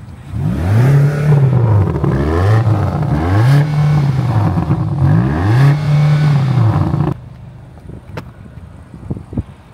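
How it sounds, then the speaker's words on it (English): BMW XM engine blipped through four or five quick revs in a row, each rising and falling in pitch with a throaty note, followed by faint clicks and ticking as it settles to idle. "let's just see what the revs sound like."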